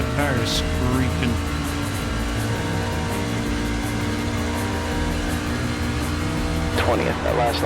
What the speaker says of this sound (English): Hear the tires screeching.